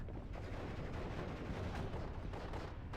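Artillery fire in the WWII strategy game Steel Division Normandy 44, set in Normandy: a dense, continuous rumble of distant booms and gunfire rolling on without pause, with no voices over it.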